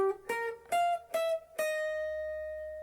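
Four clean electric guitar notes from a riff, plucked one after another in a short descending run, with the last note left ringing and slowly fading, quiet and alone.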